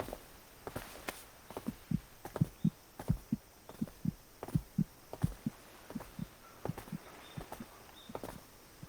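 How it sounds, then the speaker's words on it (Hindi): A fast heartbeat sound effect in an anime, with quick, regular low thumps in doubled beats, soft but steady and alone throughout. "तुम्हारी दिल की धड़कन इतनी तेज हो सकती है?"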